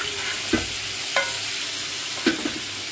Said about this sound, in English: we're just going to give this a stir